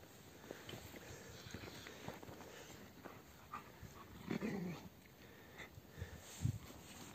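Shepherd dogs growl and snarl in low bursts amid faint shuffling footsteps and background rustle, fairly quiet and outdoors-sounding.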